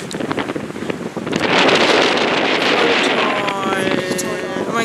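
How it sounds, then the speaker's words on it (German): Strong wind gusts buffet the microphone on a mountain path, a loud continuous roar and rumble that swells after the first second and stays heavy throughout. "hier peitscht der Wind"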